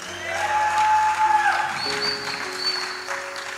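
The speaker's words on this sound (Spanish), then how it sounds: "¿Cuántos le pueden dar un fuerte aplauso a Cristo?" Church congregation clapping at a Spanish-language discipleship service, a moderate steady patter with sustained organ or keyboard tones underneath and no speech.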